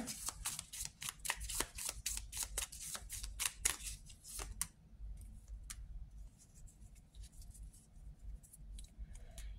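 Tarot cards are pulled from a deck and shuffled in a rapid run of crisp riffling snaps, quiet and close, thinning into a few sparse flicks and soft handling noises.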